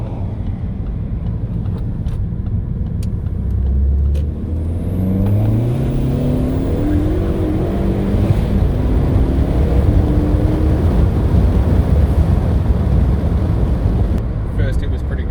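A Ford Focus ST engine idles and warms up, a steady low rumble with rising and falling tonal sweeps as revs shift, close and continuous throughout with no talk over it.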